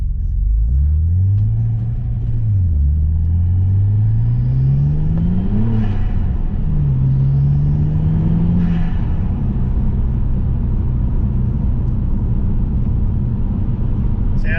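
A Vauxhall Vectra VXR with a hybrid turbo pulls at quarter throttle, a loud steady in-car engine drone rising and falling in pitch through gear changes, with a faint whoosh from the turbo.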